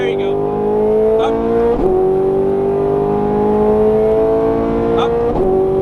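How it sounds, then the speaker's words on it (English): Ferrari 430 Scuderia V8 on a racetrack, engine note climbing steadily under hard acceleration with quick upshifts cutting in, loud and close from inside the car, with a voice coaching over it. "squeeze in that throttle, unwinding, unwind, there you go. Up."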